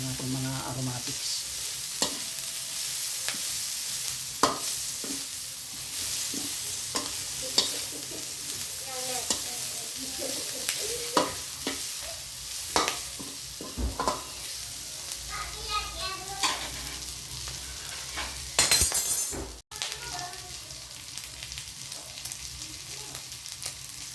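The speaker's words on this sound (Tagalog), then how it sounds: "Isahin lang natin ng mga mahigit 1 minuto para lumabas yung aroma ng ating mga aromatics." Garlic, onion and other aromatics sizzle and crackle steadily in a hot pan for adobong sitaw with pork, with a spatula scraping and stirring now and then and a brief louder clatter near the end.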